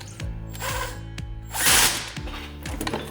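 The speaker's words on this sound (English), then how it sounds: "I'm using chrome sockets on an impact gun." An impact gun fitted with chrome sockets works on a Ford 9-inch rear axle, giving short, close rattling bursts of mechanical clatter with a brief louder whir in the middle and no speech.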